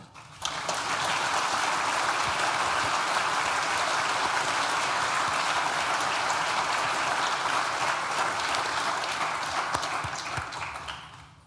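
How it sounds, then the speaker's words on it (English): A large audience applauds at an NTU School of Science and Technology graduation ceremony, with loud, dense clapping filling the hall for about ten seconds before tapering off at the end. "Please join me in thanking them with a well-deserved round of applause."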